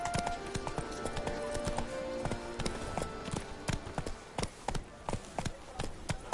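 Rapid hooves clatter from a galloping horse in The Witcher 3, the beats growing sharper and more distinct toward the end over a layer of background game music.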